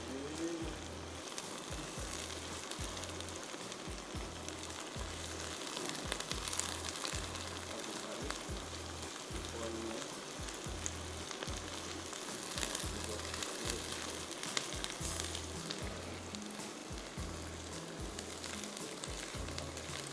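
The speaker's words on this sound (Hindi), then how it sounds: "थोड़ा सा भूनेंगे ताकि अदरक लहसुन की स्मेल ख़त्म हो जाए।" Ginger garlic paste fries in a pan with a continuous dense sizzle and crackle, steady and fairly quiet, with no voices over it.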